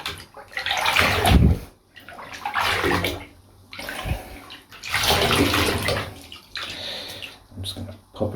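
Lukewarm water gushes and splashes into a small tub for a doll bath, coming in loud surging pulses with brief quieter gaps, close by and without speech.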